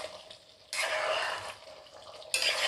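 Chicken simmering and sputtering in its own released water in a pan on high heat, a soft bubbling hiss that swells suddenly twice into louder spitting bursts.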